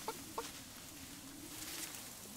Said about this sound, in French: Interagissez avec une poule.